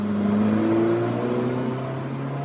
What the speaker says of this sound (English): So now the car will shift